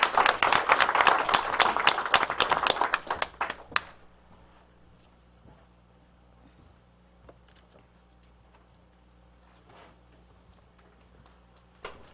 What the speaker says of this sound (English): we applaud all the teachers and those who have received the recognition tonight